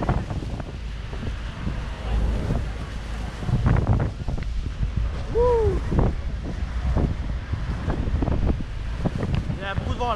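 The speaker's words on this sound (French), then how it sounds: "Il y a beaucoup de vent là." Strong wind buffets the microphone in a steady roar throughout at Niagara Falls, with rushing water and a few brief higher tones over it.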